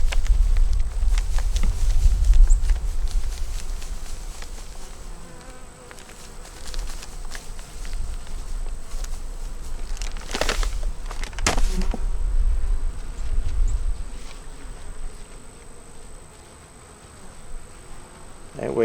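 Honeybees in a hive fed dry sugar in winter give off a steady low buzz, with louder passing buzzes from individual bees and occasional handling noises.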